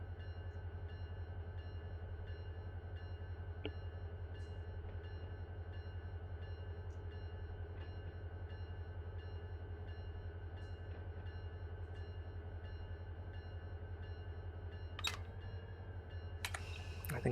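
Freight train in the Run 8 Train Simulator video game rolls along with a steady low rumbling drone and faint periodic clicks, a couple of sharper clanks near the end, quiet and continuous.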